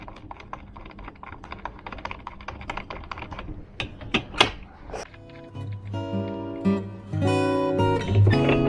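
Screws are turned to fix roof bars in position on a 2024 Dacia Sandero Stepway: a quick series of close ratcheting clicks, then a few clunks and a brief tonal squeak near the end.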